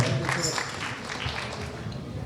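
Audience applause for a singer at a live music program in Brampton, a steady broadband clapping wash filling the whole stretch at moderate loudness with no clear voices on top.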